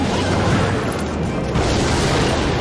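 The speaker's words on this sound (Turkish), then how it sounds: "Roket attım." A rocket spell explodes in the mobile game Clash Royale, a loud, dense booming crash that fills the whole stretch with sustained rumbling battle noise and no voices.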